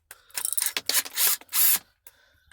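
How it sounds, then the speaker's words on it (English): A screwdriver backs screws out of the valve plate on an MV3 dash valve, giving a run of close, loud ratcheting clicks and scraping turns in quick bursts, then a quiet pause. "you want to pull these screws"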